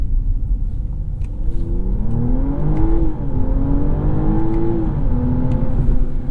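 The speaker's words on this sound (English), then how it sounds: "that is just pure B58. That's inline 6 noise." A 2025 BMW M340i's B58 inline-six engine rumbles and revs, its pitch rising and falling through several steady pulls, loud and close with no talking.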